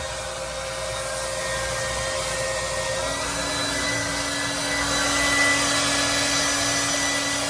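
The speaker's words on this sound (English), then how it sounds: "So I'm just running a hair dryer." A hair dryer runs continuously inside a small makeshift convection oven curing laminated epoxy on a homemade submarine bulkhead, a loud, steady blowing rush with a faint tonal hum joining partway through.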